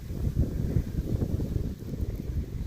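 Strong wind buffets the microphone at a fishing spot by the water, a close, rumbling low roar that gusts unevenly throughout.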